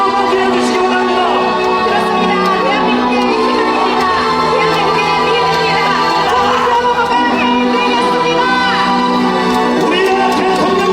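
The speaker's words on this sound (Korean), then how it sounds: "대구 시민 여러분, 경북 도민 여러분, 큰 함성으로 맞이해 주시기 바랍니다" A large crowd at a presidential candidate's rally in Daegu cheers and shouts continuously as he enters, a dense, loud roar of voices with whoops and calls throughout.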